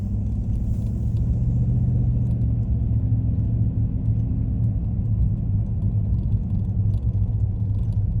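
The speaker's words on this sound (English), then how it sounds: "So just bear with me as we're driving here." A car drives along a road, its steady low engine and tyre rumble filling the cabin evenly and unbroken throughout.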